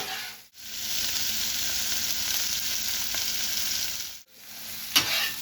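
Chopped portobello mushrooms and green onions fry in a pan with a strong, continuous sizzle that briefly cuts out twice, with a faint knock near the end.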